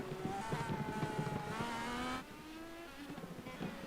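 An IndyCar in a sim racing game screams along the track at high revs, its pitch rising through the gears, then drops away as the car passes, loud and alone.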